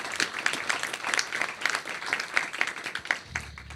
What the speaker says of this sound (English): Give them a round of applause if you would.